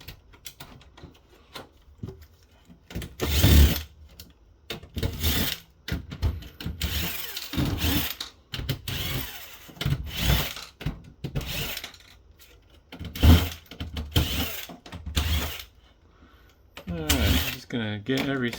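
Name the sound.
removing screws from Lenovo C460 PC during teardown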